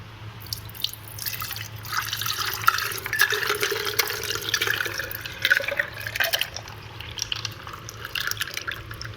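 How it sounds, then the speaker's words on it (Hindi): Raw mango sharbat trickles and drips into a serving bowl, a faint close splashing and dripping of liquid over a low background hum. "अब हम इसको सर्विंग अपने बाउल में डालते हैं।"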